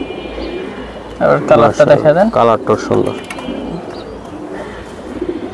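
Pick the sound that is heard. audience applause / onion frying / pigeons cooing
pigeons cooing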